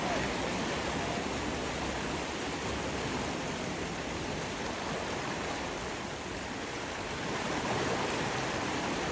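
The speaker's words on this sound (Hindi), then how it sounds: "पानी जा रहा है, कितना अच्छा है।" Mountain stream water in Uttarakhand rushes steadily in a continuous broad hiss, close and fairly loud, with no talking.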